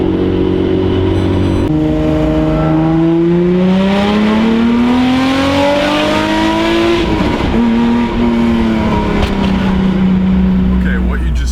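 A car fitted with a Kromer Kraft exhaust pulls away and revs, its tone climbing and falling through the gears with a loud, raspy drone close to the listener, and a lift-off dip in the middle.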